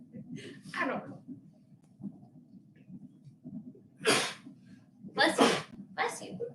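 Several sharp sneezes burst out close by in a forging workshop, one early and a cluster of three near the end, with a voice answering after each between them.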